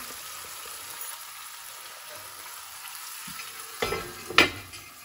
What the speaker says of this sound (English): So there's the oxtail gonna start cooking, and I'll cover it with a iron cover.